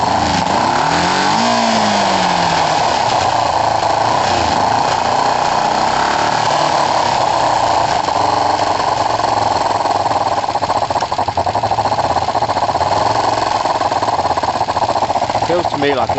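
A Kawasaki ER5 twin revs hard at full throttle after carburettor work, a loud sustained raspy engine roar that climbs early and holds steady at high revs throughout.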